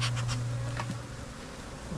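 Honey bees hum steadily at the hive in a colony being built up for almond pollination, a close, continuous drone with a few brief louder buzzes of individual bees passing near.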